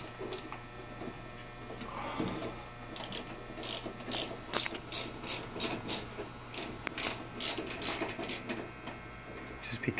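Ratchet wrench fitted with a socket and extension, worked by an electrician, giving a long run of rapid, close clicking in irregular bursts over a low background hum.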